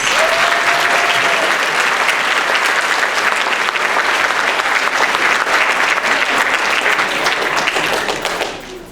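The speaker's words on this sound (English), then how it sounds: "So I'd like to give them a round of applause." Loud, sustained applause from a school concert audience at a middle school spring concert, a dense even roar of clapping that fades out at the end.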